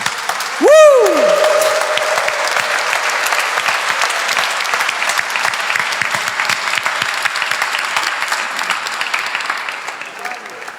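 Congregation applauding at the close of a live Catholic Mass at Padre Reus in São Leopoldo, sustained dense clapping filling the church after a brief voice at the start, tapering slightly toward the end.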